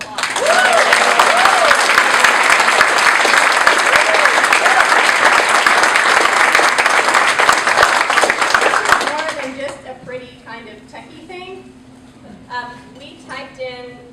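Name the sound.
audience applause for volunteer of the year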